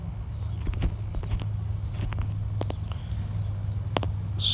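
A horse lopes in an arena, hooves thudding in a steady clip-clop rhythm, close by over a low background hum.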